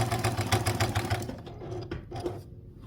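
A sewing machine zigzag-stitches a quilt appliqué, running in a fast, close mechanical rhythm for about a second before slowing and stopping, leaving a few soft clicks.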